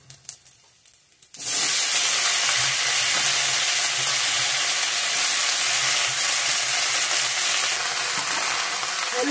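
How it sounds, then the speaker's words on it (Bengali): Cauliflower dropped into hot oil in a pan: after a quiet moment, a sudden loud sizzle bursts up and holds as a steady, close frying hiss. "ফুলকপিগুলো ভাজা করব এখন বন্ধুরা।"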